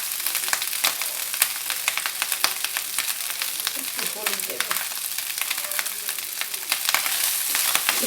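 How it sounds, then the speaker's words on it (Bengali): Rice fries with eggplant in a hot pan, a steady crackling sizzle with dense popping spatters throughout, close and fairly loud. "মা বাটিতে ভাত নিয়েছেন, ভাতটা ভেজে নিচ্ছে"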